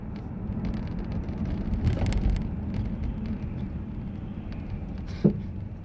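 A car being driven, heard from inside as a steady low rumble of engine and road noise with a brief knock near the end.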